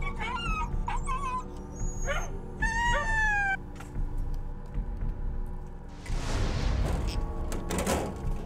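Several dogs in a gas chamber whimper and yelp in high, wavering cries, some howling, with clattering and a louder burst of noise near the end.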